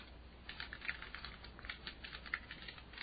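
Fingers type on a computer keyboard in a quiet, quick patter of clicks at moderate distance, steady with small bursts and no talking.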